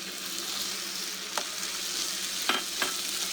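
Tomato puree stirred into light-brown frying onions, a steady soft sizzle with a few spoon scrapes breaking through, close and moderately quiet.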